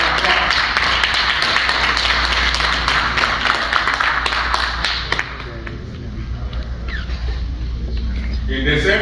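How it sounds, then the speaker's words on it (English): Audience applause and clapping fill a hall at a reunion and awards gala in a Chicago hotel, steady and dense for about five seconds before thinning into scattered claps and murmuring voices. "Can we give them a hand of applause?"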